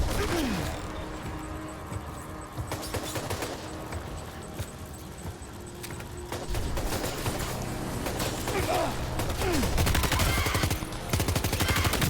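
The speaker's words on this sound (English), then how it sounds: "I will use the grenade launcher whenever possible." Gunfire and grenade launcher blasts in Death Stranding 2, a dense stretch of rapid shots and crashing impacts running continuously and loud, with busy combat noise throughout.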